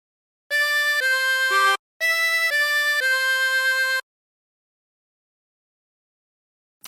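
A 24-hole tremolo harmonica plays a short phrase of Yellow Rose of Texas: a series of clear, reedy sustained notes that step between pitches, with one brief pause in the middle. The notes are followed by a few seconds of silence.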